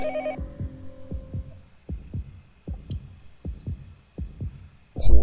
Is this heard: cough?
no